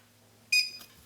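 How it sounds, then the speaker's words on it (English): A kitchen timer being set while making lobster ravioli dough gives one short bright electronic beep, then a faint click, close by and alone. "So I'm gonna set that timer now"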